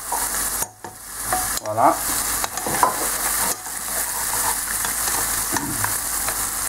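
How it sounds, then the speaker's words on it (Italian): Steady sizzling of garlic frying in a pan, continuous and close, with a brief spoken word partway through and occasional stirring clinks. "voi fate cuocere così 2 minuti, portando un po' l'aglio da tutte le parti"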